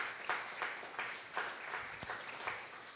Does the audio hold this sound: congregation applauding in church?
yes